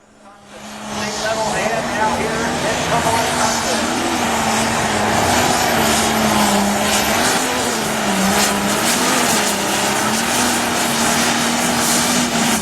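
Light Pro Stock pulling tractors with 540 cubic inch turbocharged engines and 24-inch rear tires roar at a tractor pull. The loud, sustained engine howl swells in quickly and holds strong, with an announcer talking over it.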